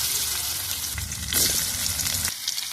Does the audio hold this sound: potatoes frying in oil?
yes